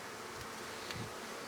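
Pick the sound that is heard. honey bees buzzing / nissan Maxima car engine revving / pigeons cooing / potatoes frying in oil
honey bees buzzing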